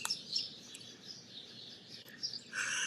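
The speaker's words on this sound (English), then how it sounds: "The birds got really excited." Birds chirp excitedly in short bursts, with a brighter flurry near the end over a quiet background.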